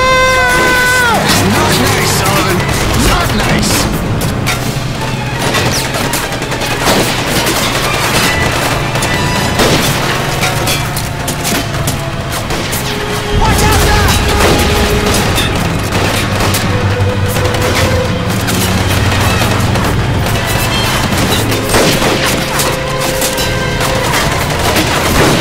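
Gunfire and booming explosions from the WWII shooter Medal of Honor Pacific Assault, dense and continuous over a droning vehicle engine and music, with shouted voices mixed in.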